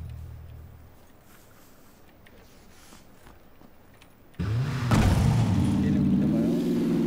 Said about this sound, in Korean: 저 차 운전 좀 할게요